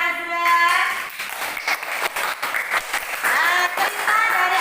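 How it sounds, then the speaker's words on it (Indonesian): Classroom applause from a group of students, a patchy burst of hand clapping that comes and goes, with young voices calling out over it. "Oke, tepuk tangan buat Azra."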